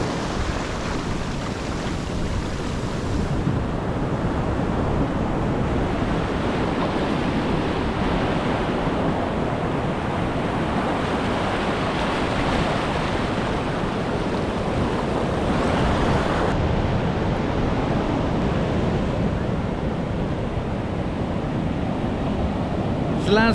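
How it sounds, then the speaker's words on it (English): Rough ocean waves and surf roll in at Cabarete beach in the Dominican Republic as a loud, unbroken wash of noise, with wind buffeting the microphone throughout. "The ocean is a little bit crazy today"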